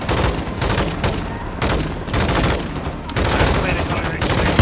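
Sustained automatic gunfire in the video game Call of Duty Modern Warfare 2, rapid loud bursts separated by short pauses, with game voices mixed in.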